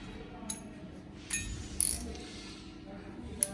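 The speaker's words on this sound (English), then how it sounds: "you can take either a 10mm wrench or a 10mm hex socket and extension" A 10mm wrench or hex socket with extension working bolts on a Honda CRF300 Rally pannier rack, giving a few sparse metallic ratchet clicks and clanks close by over quiet background.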